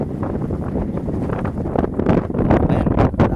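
Strong wind batters the microphone outdoors, a loud, rough roar with gusting surges that grow heavier toward the end, no voices heard.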